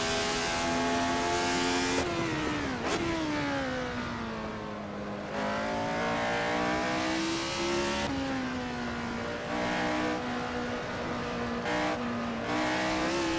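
Retro Formula 1 race car engine in Assetto Corsa screaming at full throttle on the Nürburgring, a loud sustained high-pitched whine that rises through gears with brief dips at shifts, alone without talk.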